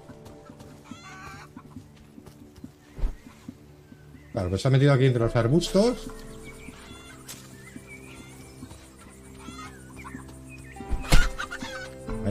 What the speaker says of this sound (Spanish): Mira, ahí tenemos otra gallina.